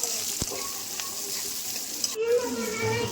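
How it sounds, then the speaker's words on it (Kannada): Onions with curry leaves and cumin fry in oil in a pan, giving a continuous close sizzle with a few stirring clicks and a short soft voice near the end. "ಇದು ಸ್ವಲ್ಪ ಎಣ್ಣೆಲಿ ಫ್ರೈ ಆಗಬೇಕು."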